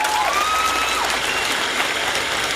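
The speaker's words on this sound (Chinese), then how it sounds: "那大家再掌声鼓励一次好不好" An audience at the 2020 Hakka stir-fry national championship final gives loud, sustained applause, a dense steady wash of clapping throughout, with a few faint whistles near the start.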